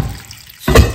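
Water is poured into a pot of cocoyam porridge, a short, loud splash that follows a brief quiet stretch.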